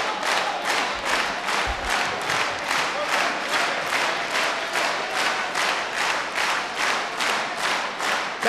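Sustained applause from a concert audience at a performance of Azerbaijani music, a dense steady wash of many hands clapping that runs without a break, fairly loud and close, with no talk over it.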